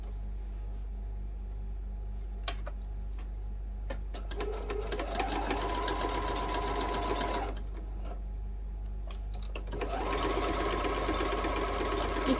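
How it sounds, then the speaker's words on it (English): Sewing machine stitching a lunch bag closed with a narrow eighth-inch seam, a steady mechanical whirring that runs in two bursts separated by a short pause, close up with no talking. "I'm just going to do an eighth of an inch to stitch that closed."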